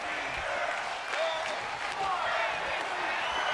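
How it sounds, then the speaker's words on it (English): Arena crowd at a Colossal Championship Wrestling event in Atlanta cheering and chanting, a dense continuous roar of many voices with rhythmic shouts rising and falling throughout. "Oh, this crowd in Atlanta telling Perch to break his fingers."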